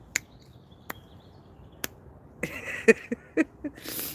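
Sharp, isolated finger snaps ring out in a quiet room, first a few widely spaced ones, then a quicker cluster of crisp clicks toward the end with some faint rustling.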